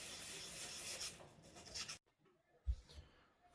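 Rough rasping rub of a celluloid guitar pick blank edge being scuffed, a continuous close scratchy stroke for about two seconds that stops abruptly, followed by faint quiet handling and a soft low bump.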